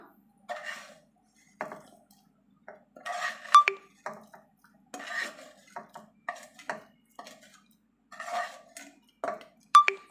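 Scattered clinks and scrapes of a metal utensil against a pot as roasted rice grains go into boiling milk for rice payasam, with short quiet gaps between.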